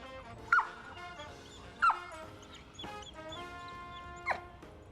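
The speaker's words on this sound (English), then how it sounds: "Because this dog barks a lot, I'm going to wait till he's quiet before I toss the ball for him." A dog, impatient to have a ball thrown, lets out a few short, sharp barks spaced apart, with whimpering yips and faint high whines between them, close by and fairly clear.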